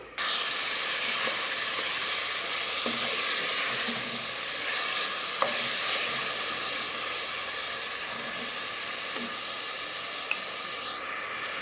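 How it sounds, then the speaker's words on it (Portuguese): Chopped tomatoes hit a pan of sautéed garlic and onion, sending up a steady, loud broadband sizzle and hiss that holds for the whole stretch, with a few faint clinks of stirring. "Agora eu vou acrescentar os tomates picados."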